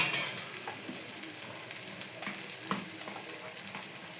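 Maggi noodles and egg frying in a pan give a steady, close sizzle of hot oil, with occasional soft clicks and scrapes of stirring throughout and no talking.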